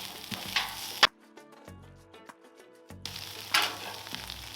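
Pulled pork sizzling on a 36-inch Blackstone griddle, a frying hiss that cuts out abruptly for about two seconds, leaving sparse clinks and tones, then returns just as loud.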